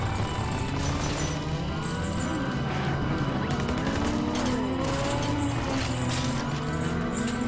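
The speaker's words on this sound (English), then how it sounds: "Okay, I gotta shoot this down" Rapid bursts of gunfire in RUNNER, a cyberpunk 80s anime-style VR arcade shooter, shooting down an enemy: repeated loud crackling volleys and impacts over a dense electronic game soundtrack.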